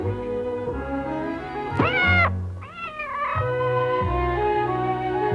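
A lynx kitten meows repeatedly in a 1971 Disney wildlife film, with high wavering cries standing out over a steady orchestral music score.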